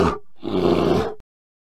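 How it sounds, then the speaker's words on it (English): A bear roars once, a deep, rough, growling blast of about a second, preceded by a brief grunt and ending abruptly, loud and close with nothing else behind it. "Bear."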